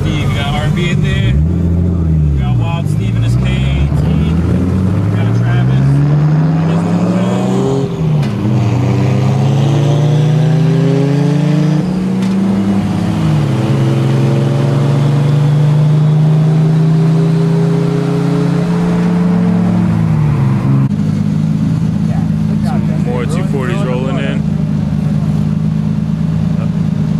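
Nissan 240SX cars, one with an RB engine, cruise together after a car meet. Their loud, close engine note climbs and drops repeatedly as they rev and shift through gears.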